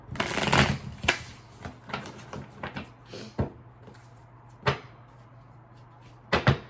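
Tarot cards being shuffled for a one-card reading, with several distinct riffling bursts and soft slaps spread across the clip, fairly close, over a low steady hum and no talking.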